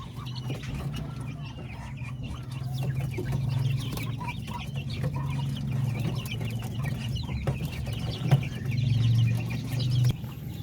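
Chickens clucking and calling together inside a large coop at a hen farm, a steady chorus of overlapping clucks over a low rumbling background, moderately loud and continuous with no talking.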